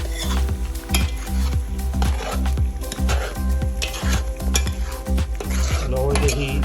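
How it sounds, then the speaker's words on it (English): Chicken in tamarind sauce is stirred in a frying pan: a utensil scrapes and knocks rhythmically against the pan over a steady sizzle, close and fairly loud. "Revolver el pollo."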